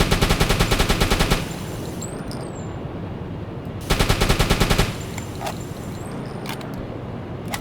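Rapid bursts of gunfire aimed at a tough ship in the submarine game Uboat: two loud, dense rattling volleys about a second and a half long each, separated by a quieter gap with faint mechanical sounds.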